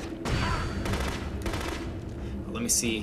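Rapid gunfire bursts from the Wii shooter game The Conduit, dense and continuous with loud volleys, while someone talks over the shooting.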